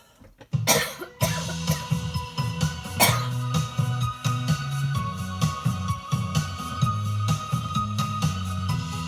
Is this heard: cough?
yes